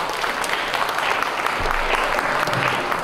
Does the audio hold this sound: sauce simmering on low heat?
no